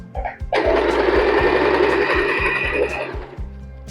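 A sewing machine runs steadily for about two and a half seconds while stitching a picot edge on a saree, its rapid motor whir close and loud, with faint low thumps pulsing underneath.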